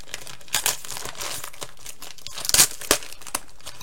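Paper crinkles and rustles in short bursts as a package is unwrapped up close, with a few sharper tearing crackles.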